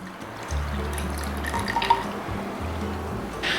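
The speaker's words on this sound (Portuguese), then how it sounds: "240 gramas de água." 240 grams of water poured into levain on a kitchen scale, a steady splashing trickle with a few drips, close and fairly quiet, no talk.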